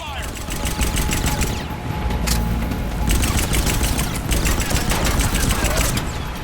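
Rapid automatic gunfire and scattered shots in a firefight in Mass Effect Legendary Edition's Leviathan DLC, loud and continuous across the whole stretch, layered with game effects.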